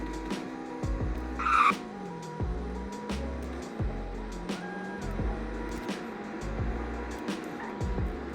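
An affordable performance car accelerates hard from 0 to 100. The engine revs climb repeatedly and drop at each gear change, a rising, moderately close roar broken by quick shifts.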